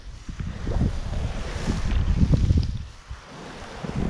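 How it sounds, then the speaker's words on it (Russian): Strong gusty wind roars across open ice during winter ice fishing in March, buffeting the microphone in a steady low rumble that swells and eases without pause. "так на 10 метрах такой ветер, конечно, жестоко"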